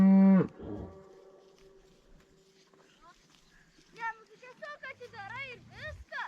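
Cattle on a winter pasture moo. One loud, long, low moo opens the clip, and a deeper drawn-out moo follows near the end, with people talking nearby in between.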